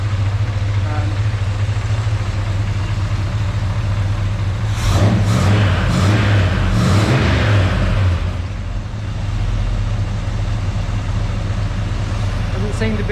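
A 1946 Chevy pickup engine idles steadily with a low, loud rumble, rising briefly in the middle to a busier, rougher burst before settling back to idle.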